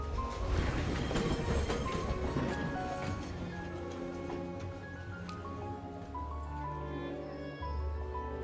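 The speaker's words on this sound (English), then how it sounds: "Enjoy a little tram ride here." A tram ride in the video game Syberia: The World Before, a steady rumbling rolling noise with clattering rail clicks and a low hum, loud and continuous, shifting in tone near the end.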